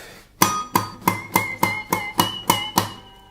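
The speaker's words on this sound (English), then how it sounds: "pinch harmonics. Okay, I'm plucking the string, strumming it very strongly actually to produce a note on the acoustic guitar." Pinch harmonics are struck on an acoustic guitar, giving eight evenly spaced, loud plucked attacks with bright ringing overtones that decay between strikes, close and without talking.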